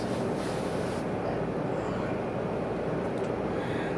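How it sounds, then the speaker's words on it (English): Steady low rumbling and bubbling of a small amount of water boiling in a pot for couscous, a continuous dense roar at constant level with no speech. "our water's boiling for our couscous"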